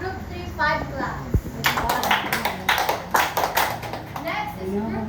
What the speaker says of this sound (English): Give group 3 5 claps